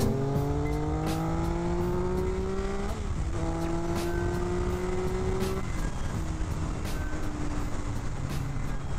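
Motorcycle engine revving hard through rising and falling harmonic sweeps, loud and close over steady road and wind noise, with a naked bike under a rider wearing a helmet.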